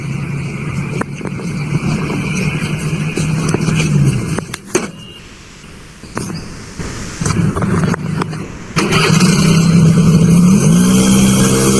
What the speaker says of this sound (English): Here, the front will be run by electric motor, and the rear will be run by IC engine. Now let's have a drive.